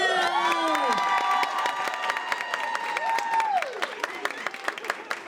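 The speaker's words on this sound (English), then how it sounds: "Let's give her another round of applause." Applause and cheering from an audience at a Women in Business awards ceremony as a nonprofit businesswoman of the year winner is announced, a dense burst of clapping with whoops and shouted voices that gradually thins out.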